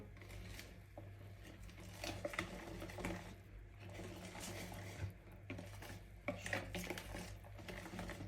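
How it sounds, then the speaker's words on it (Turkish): Carrot cake batter stirred in a bowl, with steady scraping and clinking of a utensil against the sides and soft irregular knocks, close and fairly quiet, no talk. "Karıştırıyoruz"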